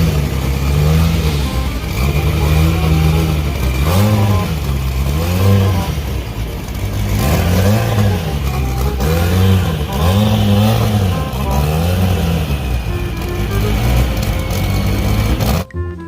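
A red toy Beetle-style frog car runs on a motor with a steady mechanical whir that rises and falls in pitch every second or so, loud and close, with no talk.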